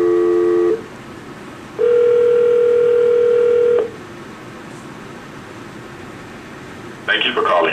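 An Avaya VoIP desk phone gives a steady dial tone in two close, clear stretches separated by a pause. A short burst of brighter electronic tones follows near the end.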